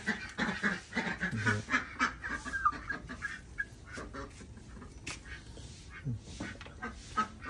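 Rhode Island Red chickens give a run of soft clucks and short cackling calls, fairly close and moderately loud, with no speech over them.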